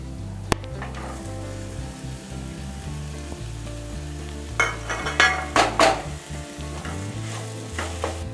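Capsicum is stir-fried in a hot pan with ginger-garlic paste, making a steady loud sizzle with a humming drone underneath, then a run of spatula scrapes and clatters against the pan toward the end.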